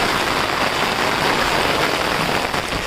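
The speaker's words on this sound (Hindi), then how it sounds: "तो यार दोस्तों आपको आवाज़ आ रही होगी बारिश की," Heavy rain drums steadily and loudly on an umbrella, a dense continuous patter close to the ear with no pauses and no talking.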